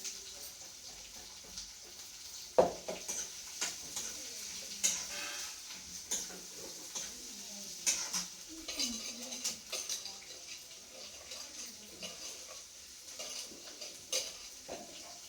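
Onion and snake gourd pieces frying in a pan, a soft continuous sizzle with repeated scraping and clinking of a spoon as they are stirred, plus a faint voice in the background.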